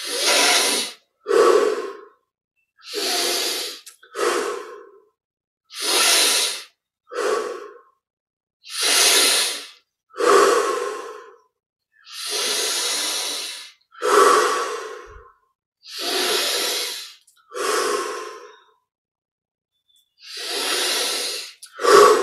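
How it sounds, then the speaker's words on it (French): Slow, deep breaths in a guided breathing exercise, with paired inhales and exhales repeating steadily with quiet pauses between, close and clear, no talking. "Puis petit à petit, on augmente l'amplitude des respirations."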